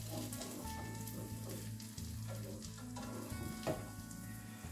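Thin slices sizzle steadily in a pan, a soft continuous crackle of frying heard up close and quiet, with a brief scrape partway through.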